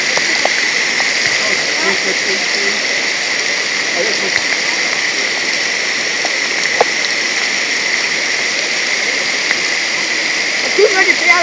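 A rushing stream swollen by heavy rain during a downpour, a steady broadband roar of water running throughout, near and loud, with a brief spoken word over it.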